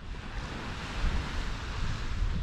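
Waves wash onto Agia Thekla beach in Cyprus on an overcast day, a steady broadband surf rush mixed with wind buffeting the microphone, with no voices.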